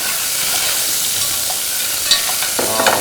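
Onions sizzle and fry in a pan over high heat while being stirred, a steady crackling hiss with a few scraping clinks near the end, close and fairly loud, with no talking.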